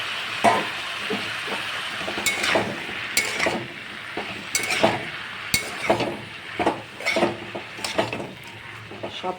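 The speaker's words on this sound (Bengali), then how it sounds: "এবার এর মধ্যে আমি লাল শাকগুলো দিয়ে দেবো।" Red amaranth leaves tossed into a pan of softened mixed vegetables, with steady close sizzling and repeated sharp clinks and scrapes of a spoon stirring against the pan.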